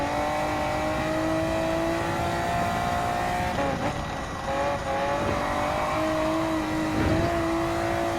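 Naturally aspirated engine of a 2002 Honda NSX Type R in Gran Turismo 7 at the Nürburgring Nordschleife, holding a steady high rev with brief dips and climbs through gear changes, loud and continuous.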